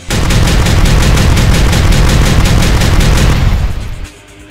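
Shotgun fire in Minecraft: a loud, relentless stream of rapid blasts packed tightly together for about four seconds, then cutting off into a quiet rumble.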